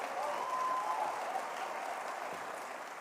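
At a street naming ceremony, a crowd applauds a county commissioner with a dense, even wash of clapping that holds steady and slowly fades slightly, with a faint voice or cheer briefly audible early on.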